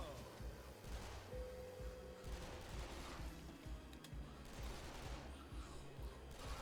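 Rapid submachine gun fire in the Zombies On A Plane video game, steady bursts running throughout with booming low-end impacts, dense and continuous with no pauses.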